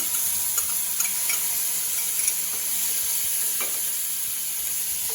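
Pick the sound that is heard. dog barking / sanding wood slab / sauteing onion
sauteing onion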